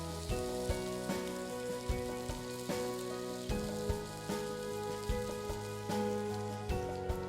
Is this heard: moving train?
no